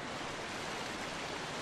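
A waterfall in The Legend of Zelda: The Wind Waker video game rushes as a steady, dense, moderately faint roar with no breaks.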